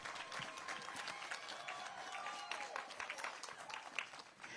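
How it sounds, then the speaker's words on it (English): At the unveiling of a Betty White postage stamp, an audience applauds, faint and distant, with scattered claps and crowd murmur continuing at a low level throughout. "another round of applause for Amber McReynolds, everybody."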